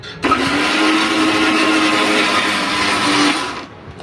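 A mixer grinder whirs steadily for about three seconds as it grinds coconut and garlic for karale chutney in a home kitchen, then abruptly spins down.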